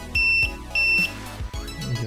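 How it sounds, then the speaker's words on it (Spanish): Two short electronic key beeps from a Kingbolen BM560 battery tester sound close together, clear and high-pitched, followed by faint background sounds. "Aquí pitido, ya hemos visto antes que funcionaba."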